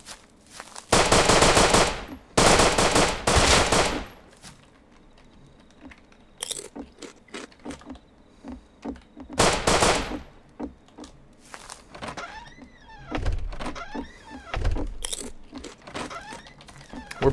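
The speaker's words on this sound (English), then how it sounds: "Oh, we're getting shot by some D-bag." Gunfire in the survival game Rust: several loud bursts of rapid automatic shots crack out in clusters, separated by quieter thuds, crunches and scattered single shots.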